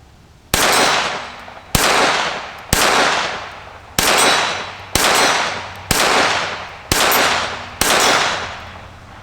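Eight sharp, loud gunshots from a Sig Sauer P322 pistol fired outdoors at a steady, unhurried pace, each with a trailing echo.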